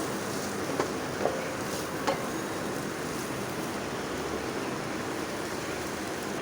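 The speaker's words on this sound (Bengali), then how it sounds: "আস্তে আস্তে করে আমি সব সবজিগুলো ভেজে নেব।" Garlic, onion and vegetables frying in a pan for chicken fried rice give a steady, loud, even sizzle with a few faint clicks and pops, and no talking.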